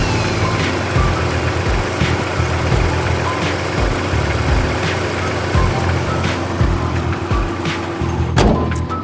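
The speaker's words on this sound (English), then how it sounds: "let's just listen to her run." A 2013 Lexus RX350 engine idling steadily up close, a smooth low hum with a faint regular pulse and a brief click near the end.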